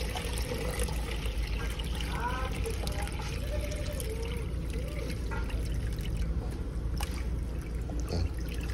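Water poured into the fuel pump housing of a 2008 Honda City, a steady close trickle and splash running for several seconds beneath a low background hum.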